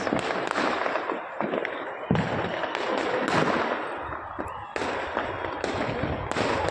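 Firecrackers bursting during a celebration on an RCB cricket match night, a dense loud barrage of crackling pops and sharp bangs going on without pause, with faint voices mixed in.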